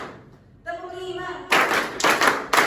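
Group of people clapping in a call-and-response counting clapping game, three or four sharp sets of claps close by following a short vocal tone, in a classroom-style training session.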